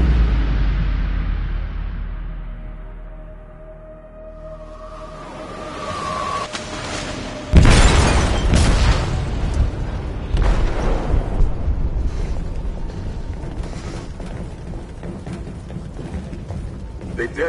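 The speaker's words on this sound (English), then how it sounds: "They detonated an explosive in the hold." In the video game Detroit: Become Human, a sudden booming blast goes off in a ship's hold, followed by rumbling, clattering debris and ongoing mechanical groaning after a quieter, fading lead-in.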